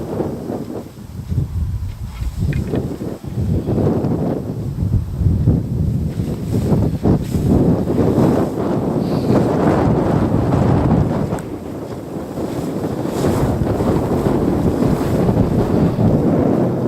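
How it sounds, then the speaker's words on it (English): Strong wind gusts buffet the outdoors, a loud, rumbling roar with swelling and easing surges that continue the whole time. "Oh, this wind."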